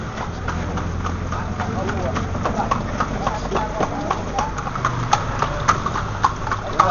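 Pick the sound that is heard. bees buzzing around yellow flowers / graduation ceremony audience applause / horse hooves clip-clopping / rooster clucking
horse hooves clip-clopping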